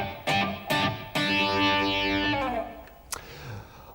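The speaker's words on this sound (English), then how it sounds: "If you hear me striking the strings, you can just hear a very, very short sounding reverb there." A distorted electric guitar rings out in several loud strummed chords, each trailing off into a brief, tight reverb tail.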